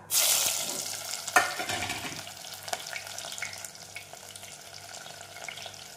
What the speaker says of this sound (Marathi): आणि आता मी पातेल्यात घातला आहे जिरं आणि आता टाकते मी कांदा।